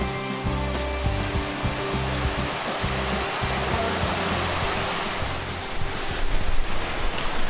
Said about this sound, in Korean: 이 바위폭포에 마지막 물이 모였다가 이제 흘러가고